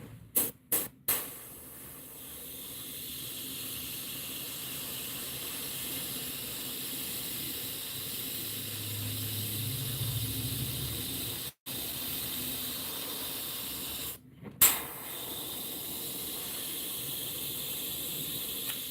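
Paint sprays from an airbrush in a steady, close hiss, with a few short bursts at the start, then a long continuous spray broken by two brief pauses near the middle and end.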